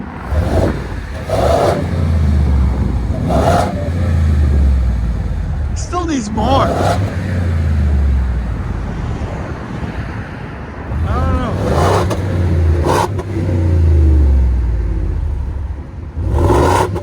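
A Ford 7.3L gas V8 with its resonator deleted revs several times, deep exhaust bursts rising and falling over a rumbling idle, loud and close, with wind or road noise between the revs.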